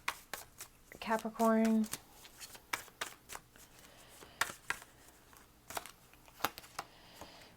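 Tarot cards shuffled by hand for a Capricorn reading, a run of quick riffling flutters and soft card slaps repeated through the clip, close and clear, with someone talking over parts of it.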